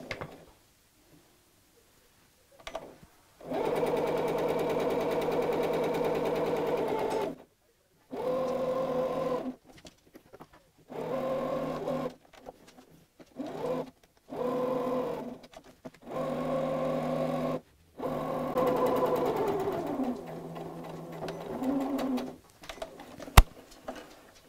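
A sewing machine stitches the side seam of a craft mat bag in a series of steady, whirring runs broken by short pauses, with no talking.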